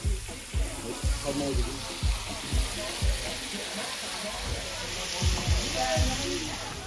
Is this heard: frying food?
yes